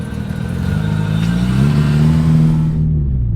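A Mitsubishi Evo launching hard off the line at full throttle, its engine droning loud and close and rising steadily in pitch before cutting off abruptly near the end.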